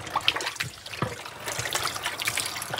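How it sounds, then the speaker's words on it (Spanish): Cold water running from a kitchen tap while washing food for tamales, a soft, steady trickle and splash with faint clatter, low in level and continuous throughout. "Ábreme la llave, por favor"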